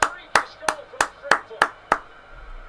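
Seven sharp, evenly spaced claps ring out in a football stadium during a minute's applause for Diogo Jota at the 2025 FA Community Shield final, each crack distinct and fairly close, with a faint crowd murmur beneath.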